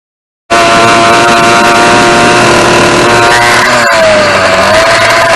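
A Yamaha YD100 split-jug two-stroke motorcycle, a build with a replacement engine that keeps blowing its reed seals, runs loud and steady after a sudden start, with a continuous buzzing drone and a shift in engine note near the end.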